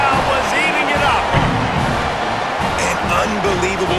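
Stadium crowd at a Liberty vs New Mexico State college football game roaring after a touchdown run into the end zone, a dense, sustained cheer with whoops, loud and continuous throughout.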